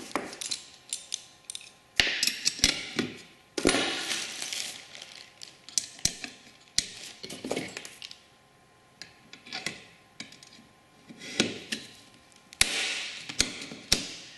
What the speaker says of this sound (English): If you haven't used a hand riveter before, the stem falls out